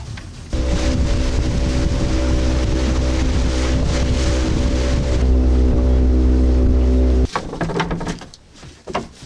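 A boat engine drones steadily on a river crossing in Colombia with a low, even hum over wind noise, then cuts off, leaving water sloshing and rustling.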